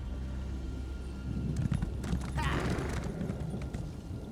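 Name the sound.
horse in a video game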